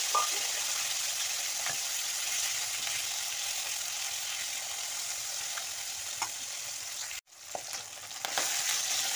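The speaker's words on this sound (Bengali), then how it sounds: "শিঙি মাছগুলো ভেজে নেব।" Singi (stinging catfish) frying in hot oil in a home kitchen: a steady, loud, close sizzle runs almost throughout, with a brief near-silent dropout around the seventh second before the crackle resumes.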